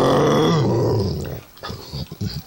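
A dog growling during play, a loud close rumbling growl that holds for about a second, then breaks into shorter gruff snorts and grumbles.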